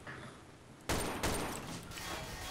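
A sudden burst of rapid gunfire in Garry's Mod during a multiplayer base attack, sharp volleys breaking in after a quiet moment and continuing loudly to the end.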